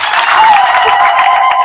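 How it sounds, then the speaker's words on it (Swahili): A church congregation at a feast-day Mass applauds, a brief, loud burst of massed clapping filling the space. "Naomba tuwapigie makofi hao wote ambao wanafanya hayo"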